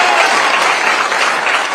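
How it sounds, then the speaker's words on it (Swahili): A crowd at a political rally in Kenya claps for a candidate, loud, dense applause sustained throughout. "Mpigeni makofi huyu muungano wetu Mithika."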